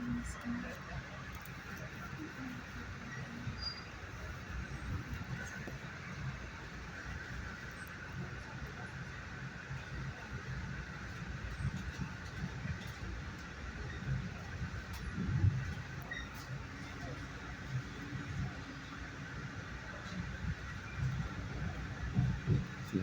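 Interior of an MTA commuter train running from Irvington to Grand Central Terminal in New York: a steady low rumble with occasional squeals and clunks continues throughout, with a person talking over it.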